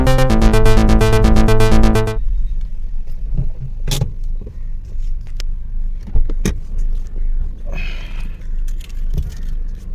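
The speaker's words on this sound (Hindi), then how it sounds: "तो भाई, अब मैं अपनी गाड़ी को मैं एक बार चढ़ाता हूँ और देखते हैं कि क्या है" Maruti Suzuki Baleno, 2022-2024 model, rolling onto a weighbridge: after a burst of loud tones, a low engine and tyre rumble with occasional clunks and scrapes from the car close by, no speech.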